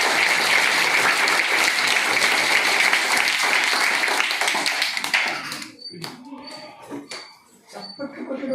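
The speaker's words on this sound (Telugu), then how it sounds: "చప్పట్లు కొట్టడం కూడా శక్తి పోతుంది" An audience claps loudly together for several seconds, a dense wash of applause that abruptly thins into scattered claps and taps near the end, with voices murmuring.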